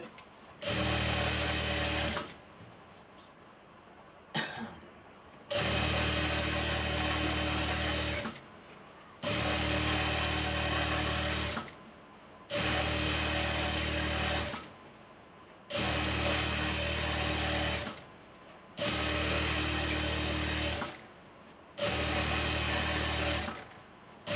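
An electric sewing machine stitches salwar fabric in repeated bursts a couple of seconds long, each a steady close whirring drone broken by short pauses, with no talk.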